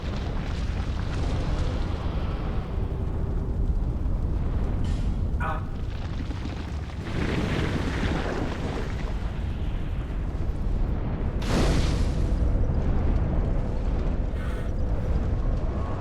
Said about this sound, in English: The tiny Michael Bay explosion is gonna be cute.